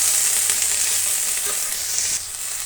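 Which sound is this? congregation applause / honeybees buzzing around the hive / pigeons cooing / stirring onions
stirring onions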